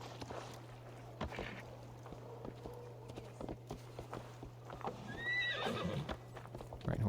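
A horse in the Assassin's Creed video game whinnies late in the clip after steady hoof clip-clops and footsteps over a constant low game hum, with no talking.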